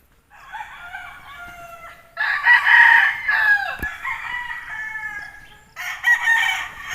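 Chickens cluck and a rooster crows close by around ten-day-old chicks on a farm, the calls layered and continuous for several seconds with louder crowing bursts midway and toward the end.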